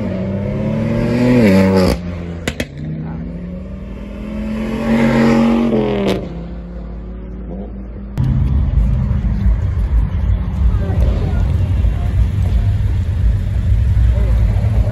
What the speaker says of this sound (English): Damn, do a burnout.